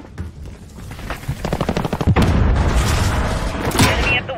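Gunfire and a grenade blast fill a Modern Warfare team deathmatch: a rapid machine-gun burst builds into a loud, sustained roar of explosion and overlapping shots, close and dense, with no voices.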